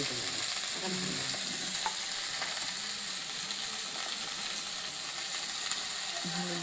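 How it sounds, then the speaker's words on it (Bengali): Vegetables frying with panch phoron spices, a constant hissing sizzle close at hand with occasional soft stirring scrapes in the pan, no one talking. "পাঁচ ফোড়ন দিলাম সুন্দর সবজির মধ্যে"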